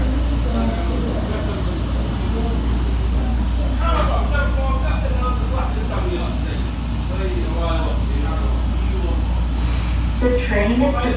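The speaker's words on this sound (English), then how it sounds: "The train is departing." A moving train rumbles along with a steady low drone and faint rail squeal, while voices talk and an announcement plays over the noise inside the carriage.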